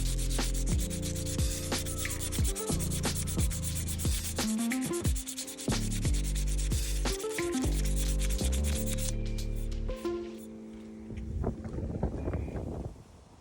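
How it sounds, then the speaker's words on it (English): An aluminium Specialized bicycle crank is rubbed by hand with sanding pads, producing close repeated scratchy strokes over a steady tonal background hum, the rubbing continuing after the hum drops away. "So I used the same pads, but just with my hand, and as you can see, just kind of sanded it all in one direction"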